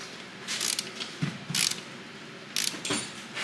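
A ratchet tightens axle bolts during a Dana 30 RCV axle install, giving several short bursts of rapid clicking close by with brief pauses between them.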